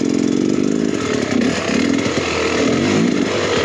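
Beta X Trainer 300 two-stroke dirt bike engine revving hard, a loud, raspy, buzzing wail that rises and falls in pitch close by over a few seconds, with no voices.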